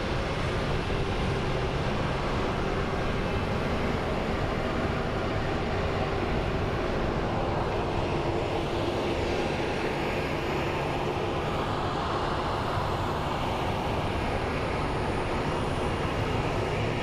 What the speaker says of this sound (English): Chances are this plane is departing to Denver.